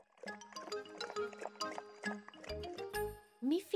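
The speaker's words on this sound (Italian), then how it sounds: "Snuffy, felice, beve tutta l'acqua." A cartoon animal laps and slurps from a bowl of water in a children's animated show, with quick wet gulps and clinks over a soft musical bed, ending in a rising squeak.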